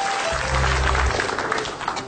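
Studio audience applause on an Indonesian comedy talk show with Cak Lontong, a brief burst of clapping in a room lasting about two seconds, with some low hum and faint background noise underneath.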